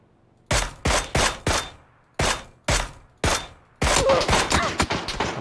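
Gunfire in PUBG, a battle royale shooter, during a Twitch Rivals streamer match: seven separate loud shots in an uneven rhythm, then a dense rapid burst of automatic fire near the end, close and clear with no talk over it.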